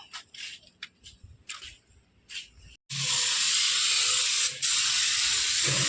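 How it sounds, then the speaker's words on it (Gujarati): A spray gun coats an old electrical transformer with white paint, starting with a few short hissing bursts, then settling into a loud, steady, continuous spray hiss close by. "લલિતભાઈ જો ગન બદલાવીને કલર ચાલુ કરે"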